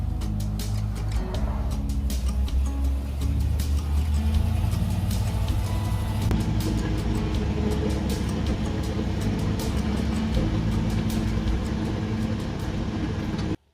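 A heavy old truck engine drones continuously as the truck rolls along a road, with a low rumble and rattly mechanical clatter throughout.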